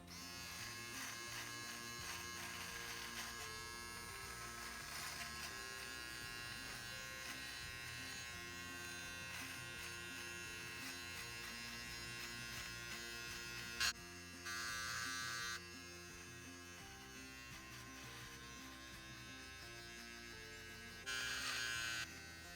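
A steady Philips MG 3720 electric shaver buzz runs throughout at close range, with a brief click and two short shifts in tone partway through.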